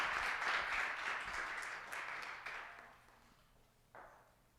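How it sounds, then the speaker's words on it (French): Applause from a Sunday church gathering in Gatineau, a brief burst of clapping that tapers off over a few seconds, followed by one short final flurry. "On peut l'applaudir pour l'encourager."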